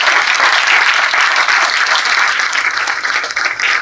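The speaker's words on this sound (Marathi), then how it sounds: "त्यामुळे आपण या सगळ्या मंडळीसाठी एकदा जोरदार टाळ्या वाजवूया" Loud, sustained applause from an audience at a university felicitation event for transgender community members, dense clapping filling the room for several seconds before tapering slightly.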